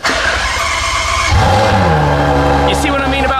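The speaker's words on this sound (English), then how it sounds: "let's take a listen to the new V12 coming into life" A Ferrari GTC4Lusso V12 fires up loudly and close by: a starter whirr, then the engine catches and settles into a deep, steady idle. Faint talk sits beneath the engine.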